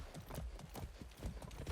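Horse hooves clip-clop in Far Cry 6 gameplay, a steady rhythmic trot of muffled thuds at moderate volume with no talk over it.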